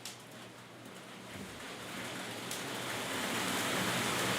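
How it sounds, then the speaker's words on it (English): Hail beating on a window outside, a dense hissing patter that gradually builds louder over a few seconds, steady and broadband with no voices. "As you can hear the hail outside as well."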